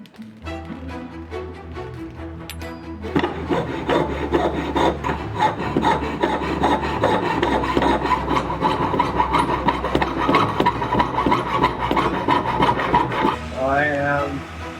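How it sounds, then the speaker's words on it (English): A hand file rasps back and forth against a small piece of flattened, carved gold being shaped for a zircon and diamond pendant, in steady close strokes after a brief softer start, ending in a short squeak. "I am sanding and shaping the gold that I flattened and"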